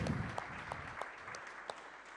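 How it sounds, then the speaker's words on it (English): Guests at a FIFA World Cup African qualifiers draw ceremony clap for a presenter, a steady, moderately distant patter of many hands with a few sharper claps standing out, lasting about two seconds. "A big applause for Nani."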